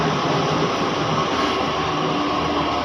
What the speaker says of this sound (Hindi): तो दोस्तों वैशाली की मेट्रो आ गई है,